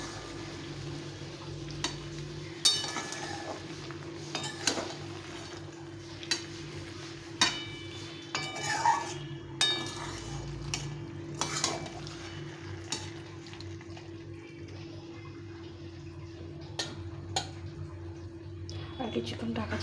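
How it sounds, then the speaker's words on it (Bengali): Boiled, softened vegetables for a curry are stirred in a pot, with repeated scraping and soft clinks of a ladle against metal over a faint background hum, while someone talks quietly throughout. "একটু ভালো করে এখন নাড়াচাড়া করে নিতে হবে।"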